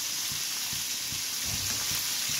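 Prawns frying in a pan for a bottle gourd and egg curry, a soft steady sizzle with light crackles, faint and continuous, with no voices over it.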